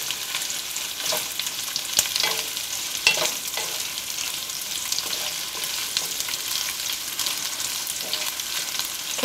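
Garlic frying in oil in a pan for a braised pork dish sizzles steadily, broken by scraping stir strokes of a utensil, close and continuous with no talking.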